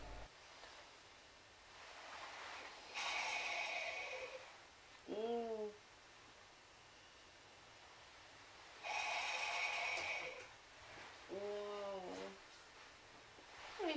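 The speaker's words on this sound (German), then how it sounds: "Breathe in and out." A patient breathing in and out for a medical exam: two long, airy breath cycles, each followed by a short voiced sound, with quiet gaps between them.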